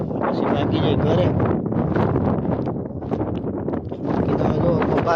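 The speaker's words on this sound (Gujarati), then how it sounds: "અત્યારે અહીંયા એને ઠંડો પવન વાય છે" Cold wind blows across an open farm field and buffets the microphone in a loud, continuous roar that rises and falls slightly without a break.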